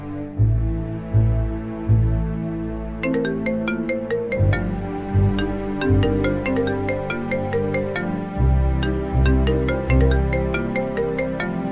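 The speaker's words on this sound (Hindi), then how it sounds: "हाँ तो सना को फोन कर लो" A phone rings repeatedly in a scene from a Pakistani horror drama while a call is being placed, its bright electronic ringtone pattern repeating steadily over low background music, with no talking.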